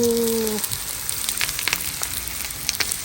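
Shallots hit hot oil in a pot and fry with a steady, close crackling sizzle, after a brief voice at the start; faint scattered pops continue throughout.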